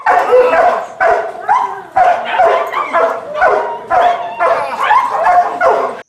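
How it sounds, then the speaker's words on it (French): Two dogs attack a professional trainer in a protective bite suit during a training session, barking, yelping and whining in rapid, overlapping bursts, loud and close throughout. "Notre dresseur professionnel est attaqué par deux chiens qui ne lui laissent pas un temps de répit."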